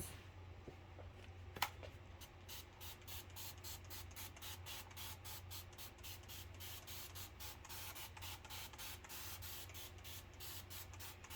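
Fabric spray goes on in a long run of quick, evenly spaced pumps, each a short, sharp hiss, close and steady against a low background hum, with a small click near the start.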